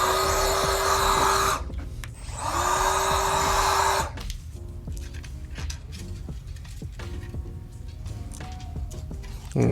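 Compressed air blasts onto the LCD panel of a 2020 MacBook Pro 13-inch A2338 during a screen replacement, two loud steady hissing bursts of a couple of seconds each, then quieter handling noise.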